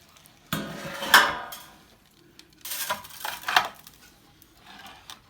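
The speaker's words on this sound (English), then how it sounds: "Now let's grab a tray" A metal tray is grabbed and set down in a kitchen while preparing Cuban-style roast pork, giving a few clattering metallic knocks and scrapes in separate bursts, close and fairly loud with quiet gaps between.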